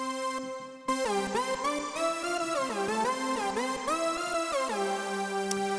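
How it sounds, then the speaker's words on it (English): A typical supersaw lead synth plays a gliding melody of thick, bright stacked tones that slide between pitches, sustained and loud, heard alone after a brief quiet start. "this is just a pretty typical supersaw lead sound"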